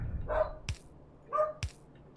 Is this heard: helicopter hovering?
no